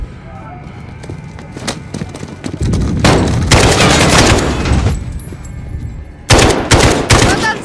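Rapid bursts of automatic gunfire from a Modern Warfare firefight, loud and close, coming in dense volleys with a brief lull before a final heavy burst, mixed with game sound effects.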